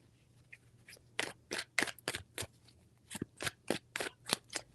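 Tarot cards are shuffled in a run of quick, crisp riffles, a few spaced bursts and then a denser cluster, close and clear with no voices.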